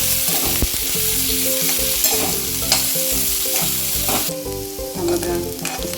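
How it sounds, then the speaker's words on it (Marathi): Onion roasts in a couple spoons of oil in a pan over medium heat, a loud close sizzle with repeated clattering stirs and scrapes of a spatula, no one speaking. "कांदा छान कटपूस भाजून घ्यायचा सगळं आपण मीडियम गॅसवर भाजून घ्यायचं"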